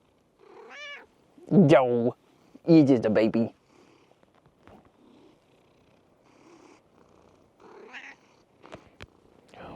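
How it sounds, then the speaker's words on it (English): A cat gives a few meows and a soft purr in a firewood shelter being turned into a tiny cabin, the meows close and clear while a person speaks in between and quiet rustles fill the gaps. "You're like a little circus cat"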